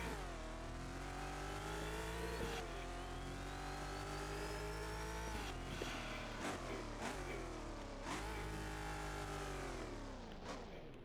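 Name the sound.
race cars driving fast in a Roblox video game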